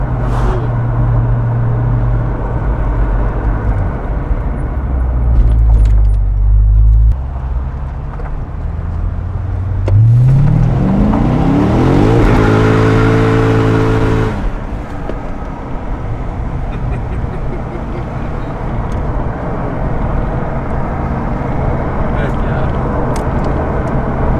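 Engine of a wrecked Chevrolet Corvette C6 Z06 accelerating on the road, heard from inside the car as a steady low rumble that swells into a rising, loud engine tone midway before settling back.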